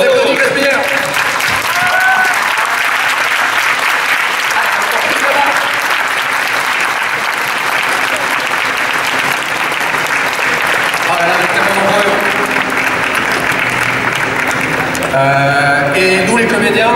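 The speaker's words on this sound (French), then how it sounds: "On les applaudit" A crowd at Japan Expo applauds a group of cosplayers, loud sustained clapping filling the hall with cheering and voices mixed in, ending amid chatter.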